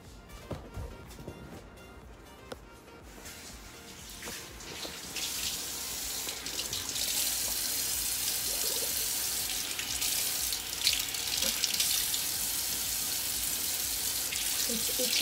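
Tap water runs steadily into a sink, building from a faint start to a loud, continuous rushing splash, with brief voices at the beginning.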